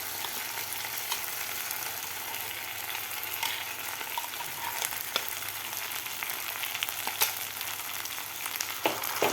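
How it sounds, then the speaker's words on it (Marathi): Tomato, coconut and dal paste sautéing with onions in a pan for tomato amti, a soft, steady frying sizzle with occasional light scrapes of a spatula and no talking. "आता हे सुद्धा आपल्याला वाटण व्यवस्थित 2 मिनिट परतून घ्यायचं आहे"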